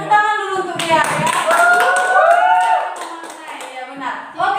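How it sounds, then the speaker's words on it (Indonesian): A high school classroom claps for a student after a poetry reading, a short burst of hand claps mixed with loud overlapping voices and chatter, close and lively. "Tepuk tangan dulu untuk dia ya."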